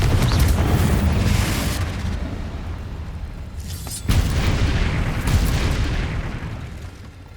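Fiery spell blasts from the Hogwarts Legacy video game, two loud booming bursts with a long rumbling roar, the second hitting around the midpoint and trailing off slowly.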